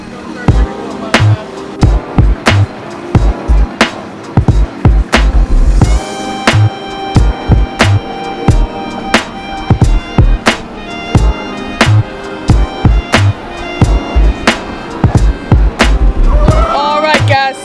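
Riding the Orion roller coaster at Kings Island, loud, rhythmic clacking and rattling of the track repeat steadily over a heavy rumble throughout.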